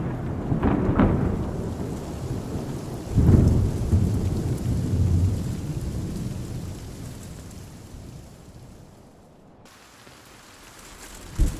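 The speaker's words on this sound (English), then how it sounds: "So many gray clouds. I guess the storm's brewing." A thunderstorm with rain in the video game Love and Deepspace: loud rumbles of thunder roll over steady falling rain, easing off toward the end.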